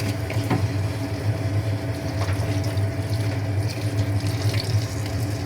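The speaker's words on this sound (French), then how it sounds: "On met aussi 20 centilitres d'eau." Water flows into a pan of pork chops as they cook, a steady, full rushing stream with faint clinks, close and continuous, with no voices.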